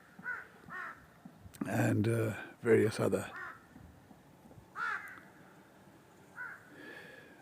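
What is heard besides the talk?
flock of birds such as eagles and vultures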